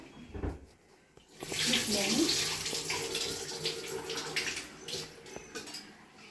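Water runs from a tap and splashes in a sink as lentils, two kinds mixed, are swished and rinsed, with a short clunk at the start.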